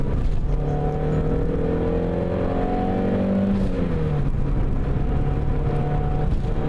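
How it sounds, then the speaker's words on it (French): A car engine hums and climbs in pitch as it revs, dips briefly, then pulls again with a steady drone and road rumble underneath. "c'est un moteur qui reste linéaire mais qui fait un bon son"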